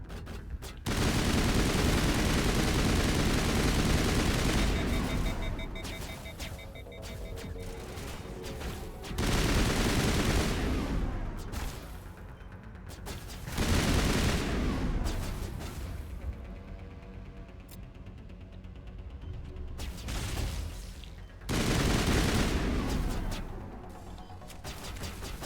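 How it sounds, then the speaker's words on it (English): Heavy gunfire from a shotgun in the sci-fi action game Mass Effect Legendary Edition, coming in loud, dense bursts of several seconds each, separated by brief quieter gaps, with no talk over it. "Oh, that's a fucking shotgun."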